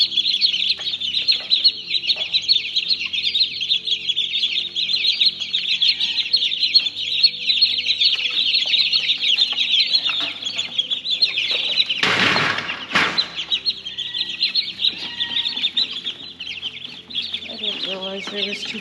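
Many baby chicks peep continuously in a high, busy chorus, close by, with a brief burst of fluttering wings partway through.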